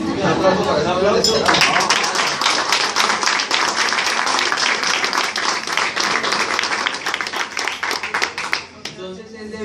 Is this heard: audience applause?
yes